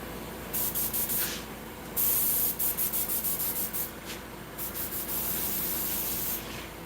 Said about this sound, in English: Clean my airbrush.